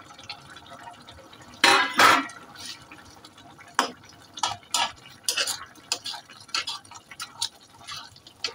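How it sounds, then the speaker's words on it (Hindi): Paneer dish being mixed in a pan, with a spoon scraping and clinking against the metal in irregular bursts, some louder strikes early and lighter taps after; no talking. "मिक्स कर देंगे अच्छी तरह से।"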